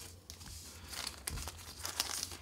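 Close, irregular crinkling and rustling of a plastic bag, with scattered crisp crackles over a quiet background.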